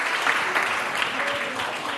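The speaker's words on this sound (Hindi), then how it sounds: "इसके लिए तालियां हो जाएं।" A studio audience at a Sindhi quiz show breaks into dense, sustained applause, loud and continuous for the full two seconds with no break.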